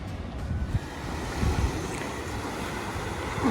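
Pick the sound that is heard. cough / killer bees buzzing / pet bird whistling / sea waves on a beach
sea waves on a beach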